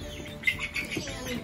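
Young chicks chirp in soft, high peeps outdoors for the first time, a faint scatter of brief calls close by with no talking.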